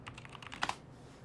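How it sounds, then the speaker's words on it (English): Fast typing on a mechanical keyboard, a quick run of crisp clicky keystrokes close to the mic that ends in two sharper louder taps, then quiet. "he's typing really fast on a mechanical keyboard"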